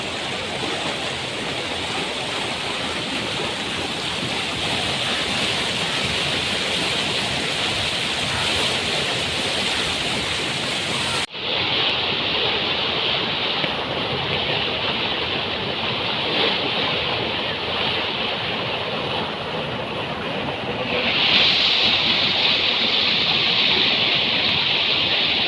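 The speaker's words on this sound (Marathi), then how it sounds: "तो बघा तुम्ही धबधब्यासारखं पाणी आहे" Water gushing steadily from a leaking public water supply tank, a loud continuous roaring rush like a waterfall that fills the whole clip, with a brief break partway through and a brighter hiss building near the end.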